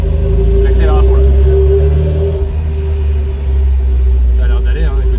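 An MGB GT engine under acceleration on the road, a steady low rumble that persists throughout, with people talking over it.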